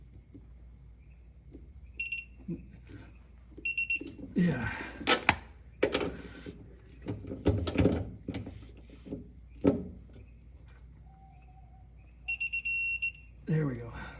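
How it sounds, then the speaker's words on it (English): Digital torque wrench beeping as it reaches torque while tightening the rear shocks on a 1968 Mustang, short bursts of high electronic beeps near the start, middle and end, with someone talking and tool clatter between them. "I'm going to attack this with a digital torque wrench."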